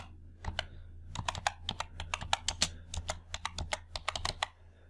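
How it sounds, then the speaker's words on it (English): Rapid clicking keystrokes on a computer keyboard while entering a sheet name in Excel, a close, irregular patter of taps in quick bursts against a quiet background hum. "and type customer data."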